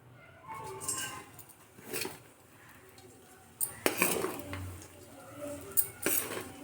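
Dried dates go into hot ghee in a pan and are stirred, giving clattering metal knocks and scrapes in bursts, with a soft hiss of frying underneath, close by.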